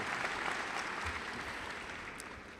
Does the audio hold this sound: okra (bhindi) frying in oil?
no